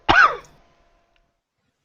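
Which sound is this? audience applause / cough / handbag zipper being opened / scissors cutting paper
cough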